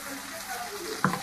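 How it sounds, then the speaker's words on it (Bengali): A spice paste of ginger, garlic, green and dried chilli and tomato fries in a pan, a steady close sizzle with a brief clink of a spoon near the end. "তো এই মশলাটাকে এখন আমি ভালো করে কষিয়ে নেব।"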